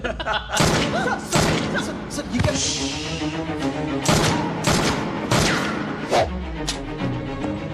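Bursts of gunfire crack repeatedly in a Hindi dubbed action movie scene, sharp loud shots in irregular volleys mixed with thuds and music.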